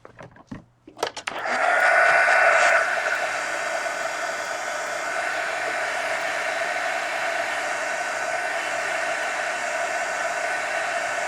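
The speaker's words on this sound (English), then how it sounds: "let me hit that with a heat gun" A heat gun switches on with a click and blows a steady, loud whooshing hiss while drying paint on a mixed media art journal cover, continuous and close.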